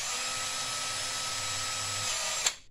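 A steady, high-pitched power drill whines continuously for about two seconds, drilling holes into a car battery, then stops abruptly with a short clack.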